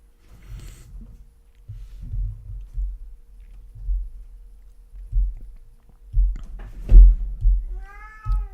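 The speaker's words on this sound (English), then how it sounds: "Bloody cat." A cat meows several times over a quiet indoor room, with soft scattered thumps and rustles between the calls and a clearer rising meow near the end.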